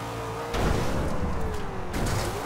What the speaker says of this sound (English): Just goes to show how much potential this Charger has with 900 horsepower.